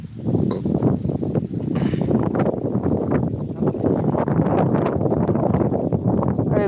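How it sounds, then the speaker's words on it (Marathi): Strong outdoor wind buffets a phone microphone during a live broadcast, producing a loud, continuous roaring rumble with gusty fluctuations that fills the whole stretch without pause. "खूपच वाऱ्याचा आवाज येतोय"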